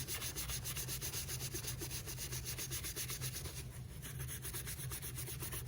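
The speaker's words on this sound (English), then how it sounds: "Little stiffer bristle brush into the medium. Same thing. Not a whole lot of pressure. Let the brush do the work." A stiff bristle brush scrubs the sole of a Victor Cruz trainer sneaker with light pressure, giving a steady, close, rhythmic rasping that runs without a break and with no talk.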